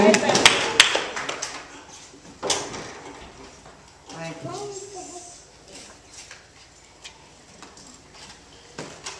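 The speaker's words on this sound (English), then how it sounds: "clap your hands again and give God some praise" A church congregation claps in praise during a worship service, a burst of hand claps early on that thins into scattered claps, with voices and murmuring throughout.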